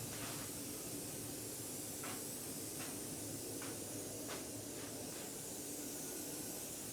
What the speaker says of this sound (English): I'm painting these like this with the spray paint